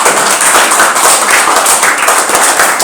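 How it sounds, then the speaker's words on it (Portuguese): A classroom of students applauds a classmate named Eduardo, dense, loud, continuous clapping from many hands close by, steady throughout with no pause. "Vamos dar uma salva de palmas para o Eduardo."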